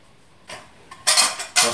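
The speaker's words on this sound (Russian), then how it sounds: "Посуда, кружка, ложка, миска." Several bright metallic clinks of cutlery and dishes knocking together, in short separate bursts with quiet gaps, close by.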